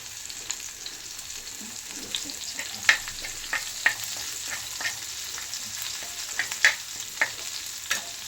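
Garlic sizzles in hot oil in a pan while a fish dish is being cooked: a continuous close frying hiss broken by frequent sharp pops and crackles, with no voices.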